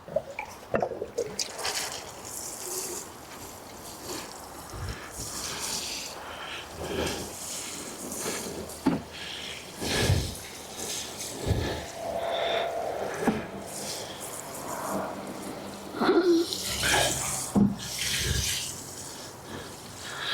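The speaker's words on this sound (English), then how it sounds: "Let me just give this a water first." Water poured from a can onto dry compost in a garden bed, a broken splashing and trickling that comes and goes in bursts over about twenty seconds, close by and moderately loud, with no talking.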